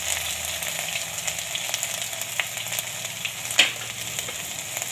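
Cloves, ginger and garlic frying in hot oil with curry leaves, making a continuous bright crackling sizzle with scattered pops and a sharper spatter burst toward the end.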